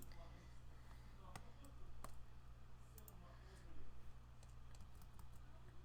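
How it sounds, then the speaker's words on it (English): Quiet, rapid clicking of a computer keyboard being typed on during homework, with irregular bursts of keystrokes at close range over a steady low background hum. "I think my keyboard sounds kind of nice"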